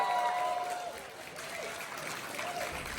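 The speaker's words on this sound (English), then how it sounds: "Keep clapping for Chen Dance Center." Audience applause for a dance company at an arts event, a steady wash of clapping with crowd noise that fades slightly midway and then holds, while a faint tonal sound sits underneath.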